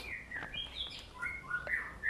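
A cililin bird sings alone in a quiet recording, a string of bright, high chirps and short whistled trills coming in quick bursts at moderate loudness.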